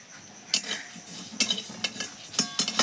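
Spice mix and mustard seeds frying in a pan for a sour-spicy jujube pickle, a soft low sizzle broken by several sharp metallic clinks and scrapes of a spoon stirring against the pan, close and moderately quiet.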